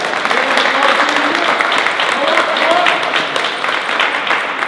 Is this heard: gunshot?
no